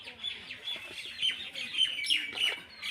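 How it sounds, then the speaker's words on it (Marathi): Several birds chirp and tweet outdoors in quick, overlapping calls, fairly faint and distant, with a rooster-like call mixed in. "सकाळचा टाईम झाला पक्षी पण जाम ओरडता"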